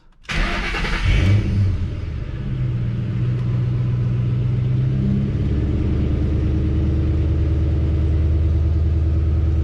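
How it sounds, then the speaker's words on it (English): A car engine fitted with a cold air intake cranks and catches when cold, revs briefly, then settles into a steady, deep, slightly high idle that rumbles on without pause. "let's start it up, see how it sounds"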